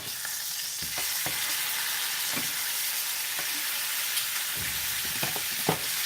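Steak sizzles and fries steadily in a hot pan just after being flipped, a dense continuous hiss broken by scattered louder pops and spits, close and with no talking.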